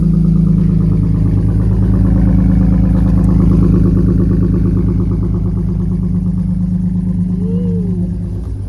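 A right-hand-drive BMW E46 idles while warming up, its engine holding a steady, loud, close hum with a faint rise in pitch near the end and no talk over it.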